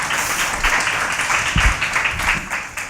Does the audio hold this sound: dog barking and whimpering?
no